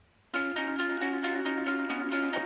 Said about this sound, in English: So these are the guitars without any effects